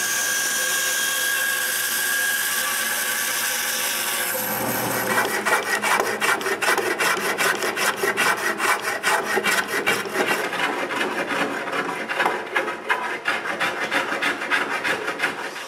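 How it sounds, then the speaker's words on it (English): A wooden coat rack post is sanded smooth by hand after a Japanese saw, giving a loud, close, rhythmic rasping with rapid repeated strokes. A steadier hum plays first and quickly gives way to the scraping, with no voices. "The Japanese saw left some marks on the post, so we sand them smooth."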